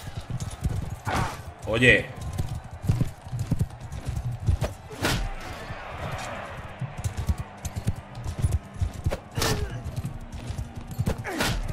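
Horses clip-clop at a trot in Mount & Blade II: Bannerlord, rapid hoofbeats thudding irregularly and fairly close, with occasional louder impacts and brief snippets of talk over the game sound.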